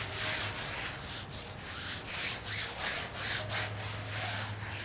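A brush works cleaner into the fabric of a convertible car roof, close rhythmic scrubbing strokes, about ten rough swishes in quick succession.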